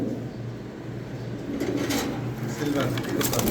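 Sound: adult pigeons cooing

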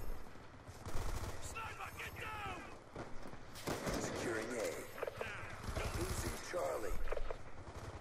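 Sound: gunfire in a Call of Duty video game

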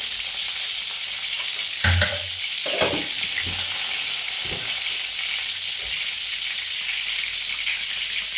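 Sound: seeds frying in hot oil for tempering

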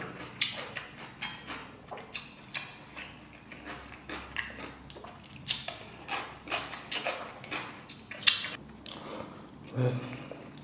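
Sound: chewing braised pork belly during mukbang

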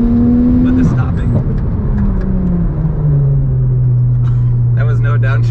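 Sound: turbocharged 800hp Porsche GT3 Cup car accelerating

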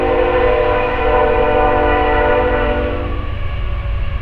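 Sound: train passing with horn nearby

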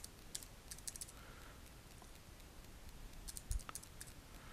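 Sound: typing on a computer keyboard

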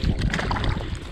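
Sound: wind blowing on frozen reservoir while ice fishing

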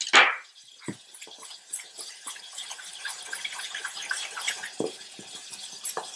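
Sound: pouring water into dumpling batter

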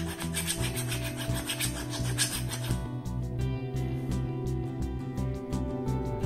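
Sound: file rubbing the coating on a brass plug pin

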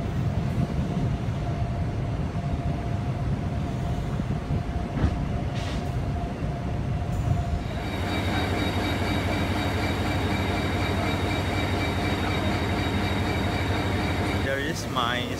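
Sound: inside a Malayan Railway intercity train, first class

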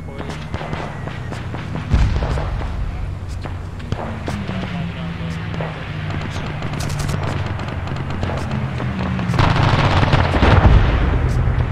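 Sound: machine gun fire in the video game ArmA 3

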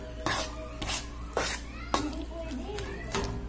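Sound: stirring sticky ube jam in a pan

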